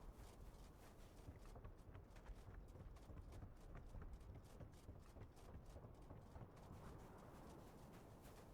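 Horse hooves clip-clop steadily in the fantasy game Tainted Grail, a quiet, even trotting rhythm with faint ambient bird calls in the background.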